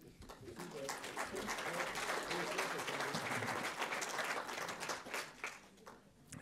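Audience applause at a sports club presentation event, sustained, even clapping from a crowd that swells and then tapers off toward the end, with some voices underneath.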